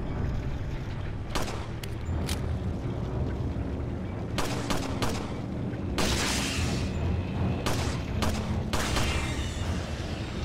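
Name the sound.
pistol gunfire in Resident Evil 4 video game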